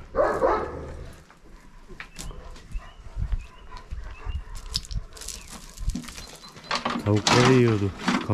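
Dogs bark in several sharp bursts at a mountain house amid people talking and calling out, with scuffling and background farmyard noise.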